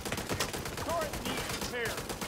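A deployed turret in The Division 2 fires quick rattling bursts, fairly faint and distant within a busy combat mix.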